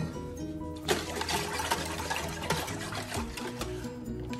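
Brine of dissolved salt water pours into a container for curing fish, making a steady gushing splash that runs unbroken for several seconds with no talk.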